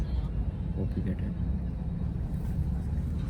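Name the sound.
airplane engine during takeoff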